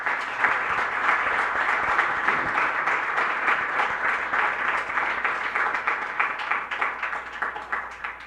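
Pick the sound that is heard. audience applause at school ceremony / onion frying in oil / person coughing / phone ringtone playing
audience applause at school ceremony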